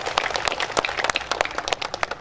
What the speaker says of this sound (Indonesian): Tepuk tangan Bung buat Bung Jaya.